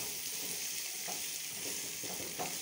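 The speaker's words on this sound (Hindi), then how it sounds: "बस 1-2 मिनट ही हमने इसे फ्राई करना" Wheat flour panjiri ingredients fry in a pan with a steady, soft, continuous sizzle and faint crackles throughout, with no talking.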